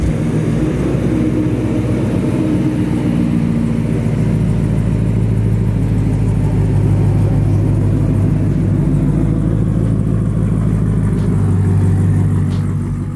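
Supercharged LS9 engine of a 1971 Camaro restomod, producing a steady, loud, close rumble while driving, with a continuous low drone throughout and no talking.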